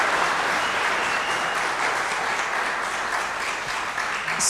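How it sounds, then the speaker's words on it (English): Sustained applause from an audience after a policy lecture on climate action, a dense, even wash of many hands clapping without pause, fairly distant and steady throughout. "Can we give him another round of applause"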